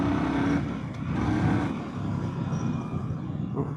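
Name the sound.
2025 Indian Sport Scout motorcycle riding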